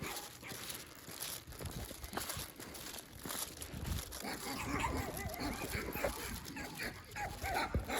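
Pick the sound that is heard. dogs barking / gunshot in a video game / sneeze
dogs barking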